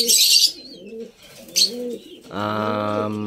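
A racing pigeon coos once, close and clear, its low, throaty call following a couple of softer, fainter bird sounds, with no one speaking.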